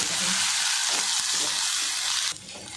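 Ginger garlic paste sautéing in a pan for tomato kurma, a loud continuous sizzle with light stirring scrapes, easing off sharply near the end.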